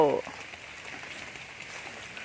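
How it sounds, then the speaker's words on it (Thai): Rain falls steadily in a forest during a mushroom-foraging outing, a soft, even patter on leaves and ground that continues throughout, with a brief faint voice at the very start. "บรรยากาศฝนตกนะครับ พี่น้อง"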